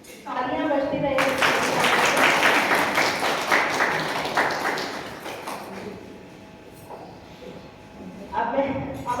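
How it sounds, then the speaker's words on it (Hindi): Audience clapping at a yoga institute's Republic Day celebration, a sustained round of applause from a crowd that swells loudly at first, then thins and fades with voices in the background before a brief new burst of clapping. "तालियां बजती रहेंगी।"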